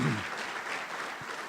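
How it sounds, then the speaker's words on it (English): An audience at the RVAsec 2017 security conference applauds Virginia Governor Terry McAuliffe, a brief, even burst of many hands clapping at moderate distance after a voice cuts off at the start. "Let's give him a great round of applause."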